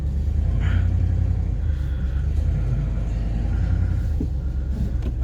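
A Ford F150 truck with stuck brakes shifted into drive and creeping forward, a deep steady engine rumble close by with brief scraping and knocks, no talk.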